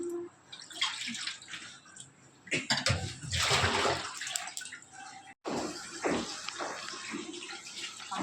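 Kuishak fruit is washed by hand under running water, with loud bursts of splashing and pouring that start and stop, separated by quieter gaps and drips, all close by.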